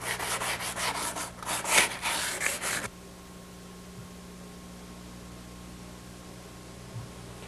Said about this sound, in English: give it a once-over with a light to medium grade sandpaper to create a better bonding surface